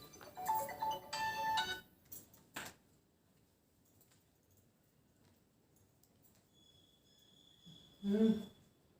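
A phone ringtone chimes in short melodic bursts near the start, then a quiet room with brief knocks and a soft tone later.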